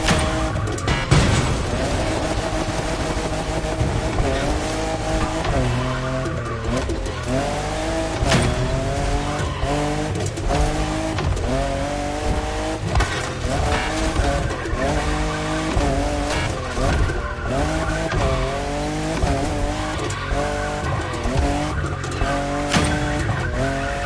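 A fifth-generation Toyota Supra drifts in the racing video game The Crew Motorfest. A loud revving engine rises and falls repeatedly over constant squealing tires, sustained and dense for the whole stretch.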